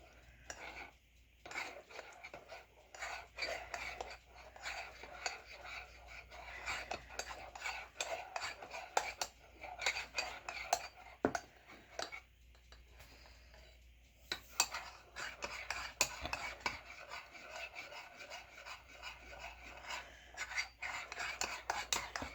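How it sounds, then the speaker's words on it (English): A spoon stirs cacao powder into liquid in a cup, giving soft repeated clinks and scraping against the sides at a steady rhythm, close and fairly quiet throughout. "So I just stir it like so it dissolves in the liquid."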